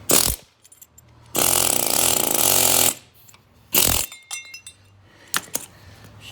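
A power tool works the rear axle posi bushing out of a 1966 Pontiac 355 in a garage, giving two harsh, loud grinding bursts. Short metallic clinks and rattles of parts and tools come between and after them.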